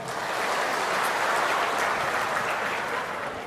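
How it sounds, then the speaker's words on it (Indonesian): Steady, dense audience applause in an indoor government ministry gathering in Indonesia, a continuous wash of many hands clapping at even loudness throughout. "Tepuk tangan untuk kita semuanya"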